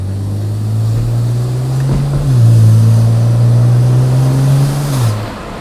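A 16-year-old BMW 135i with an N54 engine and downpipes, set in sport mode, drones loudly from inside the cabin as the car pulls away, its engine note rising, briefly dipping, then holding steady before easing off.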